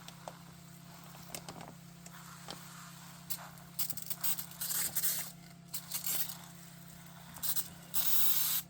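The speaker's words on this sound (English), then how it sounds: "Now I'll take my sprayer and I'm just going to wet these down." A hand pump sprayer wets down vermiculite spread over freshly sown gomphrena seeds indoors, giving short hissing bursts with gaps between them. A steady background hum runs underneath, and the sprays grow longer and louder toward the end.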